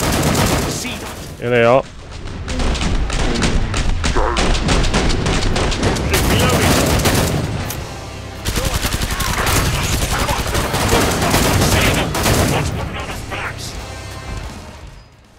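Rapid, loud gunfire rattles almost continuously in Killing Floor 2, pistol shots blending into dense bursts amid combat noise, with someone talking over it.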